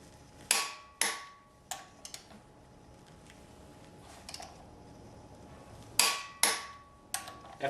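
Sharp metallic clicks in uneven bursts from a torque wrench tightening flywheel bolts to 100 foot-pounds on a Nissan SR20DET engine in a 240SX swap, each click ringing briefly in a quiet workspace.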